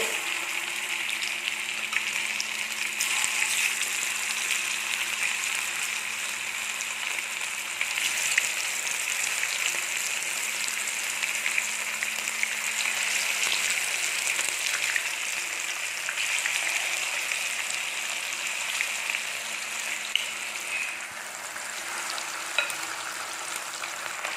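Chicken sizzles steadily in hot oil, a constant bright crackle with occasional pops that carries on without pause and without talk.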